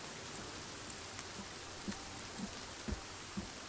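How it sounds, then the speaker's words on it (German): Soft, steady rain falls in the survival game Sons of the Forest, a faint hiss with a few louder drops landing at irregular moments, no voices. "Vielleicht regnet es ja tatsächlich gerade."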